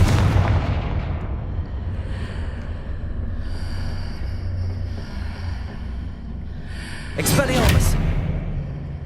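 Blasting spell explosions in Hogwarts Legacy, a continuous rumbling boom bed with a sharper burst near the end, loud and sustained, with a voice speaking over it.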